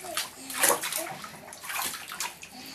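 Water sloshing and splashing in a bathtub as a small child is rinsed, with uneven bursts of pouring and splashing close by and faint voices mixed in.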